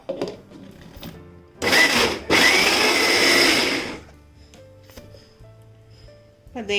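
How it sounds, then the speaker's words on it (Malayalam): A kitchen mixer grinder blending about a dozen peeled bananas, a loud close whirring burst of roughly two seconds with a short break, surrounded by quieter handling sounds and another brief start at the end. "മിക്സിയുടെ ജാറിലേക്ക് ഈ പഴം ഇതിൻ്റെ തോല് മാറ്റിയിട്ട് ഇട്ടിട്ടൊന്ന് അടിച്ചെടുക്കണം"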